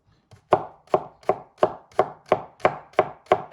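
A knife chops onion on a board in eight evenly spaced, crisp strikes, close and clear with quiet gaps between, no voices.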